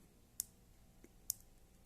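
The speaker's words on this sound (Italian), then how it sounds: "solo in senso antiorario, ecco qua, vedete, e è frenata da dei click" The rotating bezel of a Casio MRW-200HC diver watch makes a few sharp, crisp clicks at irregular intervals, close and faint, with no talk.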